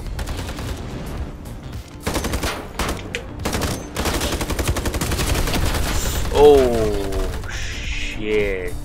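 Rapid bursts of automatic gunfire and single shots from the free-to-play PC first-person shooter Ironsight, loud and dense, with a voice talking over much of it and electronic whirring near the end.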